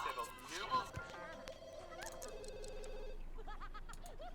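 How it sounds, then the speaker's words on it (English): A telephone rings in The Sims 2, its electronic tones sounding amid chirpy, babbling game voices, with a sustained ring tone in the middle before more garbled chatter at the end. "Someone get the phone, please."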